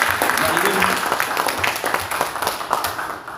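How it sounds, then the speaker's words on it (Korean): Audience applause for the presenters and discussants at a seminar, sustained clapping from a crowd with individual claps audible, steady then easing slightly toward the end. "자, 박수를 해주시기 바랍니다."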